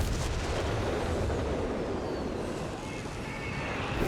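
Bishop self-propelled artillery firing during a Company of Heroes 3 4v4 match, a dense rumbling barrage of booms and blasts that runs throughout, with spoken commentary mixed in.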